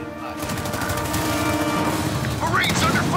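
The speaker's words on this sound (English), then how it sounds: "Marines under fire from hostile." Bursts of gunfire and explosions hit marines in Halo Wars 2, a dense loud barrage with booms and crashes, and a voice briefly heard over the battle.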